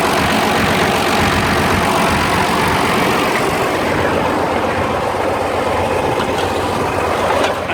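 An Oliver 1655 FWA tractor's Waukesha diesel engine runs at a steady idle, a continuous rough rumble with no voices.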